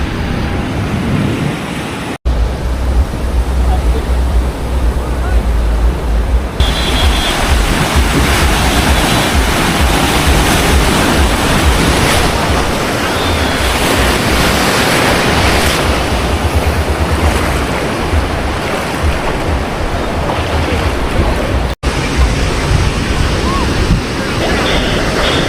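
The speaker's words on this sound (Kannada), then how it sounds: "ಸಮುದ್ರ ಅಲೆಗಳು ನೋಡ್ರಿ ಹೆಂಗೆ ಬರತ್ತಾವ" Sea waves break and roll continuously onto a Goa beach, a loud, dense wash of surf with heavy wind buffeting the microphone throughout.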